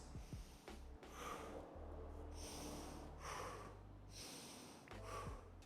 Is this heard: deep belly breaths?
yes